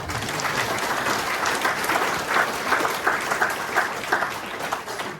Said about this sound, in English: I'd just like to ask the audience just for a round of applause for all of the candidates